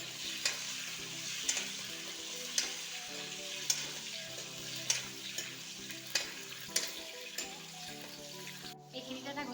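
Peas fry in hot oil in a pan, a soft continuous sizzle broken by repeated sharp pops and spoon scrapes at roughly one-second intervals, ending in a brief burst of louder crackling.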